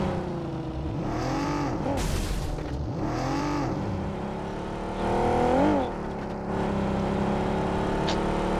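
A buggy's engine revs while driving, its pitch repeatedly climbing and falling in whining sweeps, loud and steady throughout with no voices.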